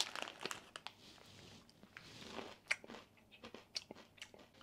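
Crunchy chewing of Yuzu Citrus Pepper Taste peanuts, a Japanese bar snack, with repeated biting crunches and crinkly mouth sounds, close and quiet, no talking.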